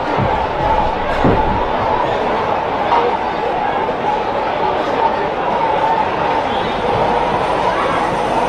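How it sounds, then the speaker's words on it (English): A large crowd chattering at a 2023 Adelaide Footy League Division 3 grand final, a dense and loud hubbub of many voices with occasional thuds and shouts, steady throughout. "Alright, the crowd settle down a little bit."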